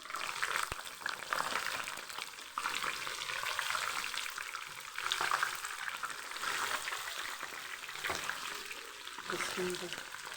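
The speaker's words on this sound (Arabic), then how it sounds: "يلا بقى نقلي البتنجان" Eggplant sizzling in hot frying oil in a home kitchen, a steady bright crackle and hiss that continues evenly at moderate volume, with faint background voice-like sounds.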